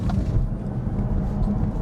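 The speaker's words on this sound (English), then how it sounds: "The nice drivetrain whine." A Tesla Model 3 with 142,000 miles accelerating under electric drive: a steady low rumble of road and motor noise inside the cabin, with no clear high whine standing out.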